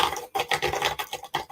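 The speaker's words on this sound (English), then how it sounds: "that's the cat scratching the cat box" A cat scratches in its litter box with quick, repeated gritty scraping strokes, each one a short burst of rasping litter, close by and fairly loud, with no voices.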